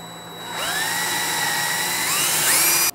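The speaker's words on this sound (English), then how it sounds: "And go ahead and drill a hole." A power drill whines steadily for a couple of seconds while drilling a hole in wood, its pitch rising slightly as it bites, then cuts off abruptly.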